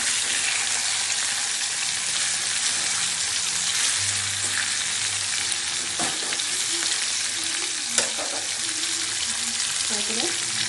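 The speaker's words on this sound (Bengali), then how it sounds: "ফ্রাই করে নিচ্ছি।" Hilsa fish pieces frying lightly in oil with black cumin and green chillies for a Bengali mustard fish curry, a steady loud sizzle throughout with occasional faint clinks of a spatula.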